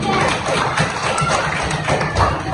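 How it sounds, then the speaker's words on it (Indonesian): A classroom of students applauds group 3 after their presentation during a teaching lesson, a continuous busy patter of many hands clapping at close range with no pauses. "Kita beri tepuk tangan untuk kelompok 3."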